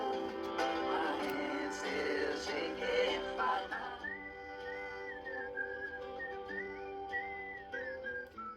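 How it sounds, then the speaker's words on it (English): Melodic whistling rises over soft music in the second half, bright wavering phrases repeating with short gaps, fairly close and clear. "We ended on a little whistling down there."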